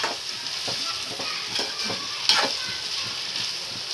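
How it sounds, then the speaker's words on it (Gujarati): A spoon stirs through dal in a pot with soft scraping strokes, over a steady background hiss of cooking. "હવે આપણે આમ હલાવી નાખશું એટલે મિક્સ થઈ જાય"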